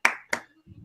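A few quick hand claps from an audience, two sharp bursts close together, followed by a faint low murmur.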